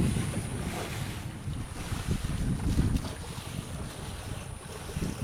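A sailboat moving along at three to four knots in very light wind off Porquerolles, a steady wash of water and wind rumble, close and continuous with no distinct events.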